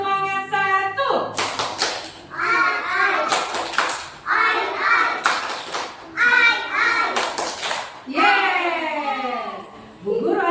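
Kindergarten children chant a rhythmic class cheer together, clapping in sharp bursts between the chanted lines, loud and close in a classroom.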